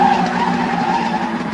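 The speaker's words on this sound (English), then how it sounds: "They threw themselves out of the way of the screaming sports car as its wheels sprayed dust and gravel in all directions." A screaming sports car skids on dust and gravel, its tires letting out a loud, continuous tearing squeal that holds steady from start to finish.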